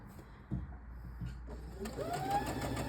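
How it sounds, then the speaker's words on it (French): A sewing machine stitches a garment as an asymmetric top is assembled, running softly at close range in a steady mechanical hum with a faint rising whine near the end, and no talking. "je vais vous faire voir comment je couds sur la partie d'après"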